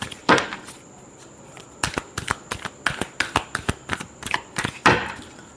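Tarot cards being shuffled by hand for a Virgo reading, a run of sharp, quick riffling snaps and slaps in an uneven rhythm, close and fairly loud, with no voice over them.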